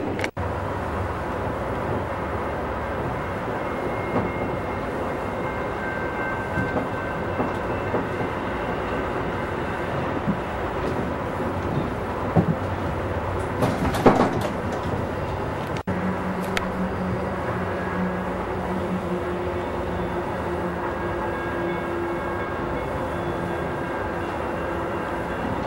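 Amtrak California Zephyr passenger train rolling along the rails near Burlington, Iowa, heard from inside the car as a steady, moderately loud rumble with occasional clatter and a brief louder burst midway, with no talking.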